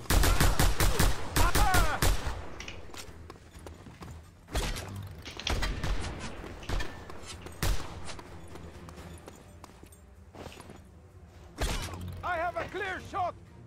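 Gunfire from the Just Cause 2 game: loud bursts of automatic fire and sharp single shots in irregular clusters, with thuds, mechanical clanks and a short voice snatch between volleys.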